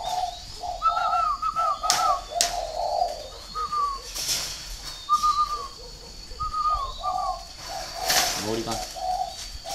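Pet spotted doves coo repeatedly in soft, rhythmic phrases close by, and a person briefly speaks over them.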